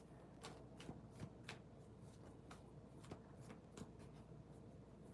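Tarot cards being shuffled in quick bursts of crisp riffling and flicking, a steady run of snaps close to the microphone with soft room noise underneath.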